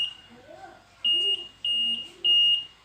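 A 2020 Yamaha NMAX scooter's anti-theft alarm repeats sharp, high electronic beeps in even bursts, with faint voices murmuring underneath.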